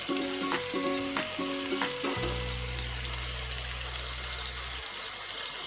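Raw mango bhaji for Maharashtrian kairichi bhaji, uncovered after simmering, sautéed in a pan: a soft continuous sizzle with a few rhythmic utensil taps at first, then a long steady hum, with no one speaking.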